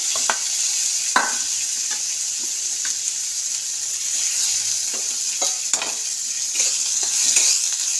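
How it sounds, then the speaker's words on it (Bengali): Onion frying in a little leftover oil in a pan after cooking fish, a loud, steady close sizzle with occasional stirring clicks and scrapes throughout, no voices. "তেলটা অল্প করে বেঁচে আছে, তার মধ্যে আমি পেঁয়াজটা দেবো।"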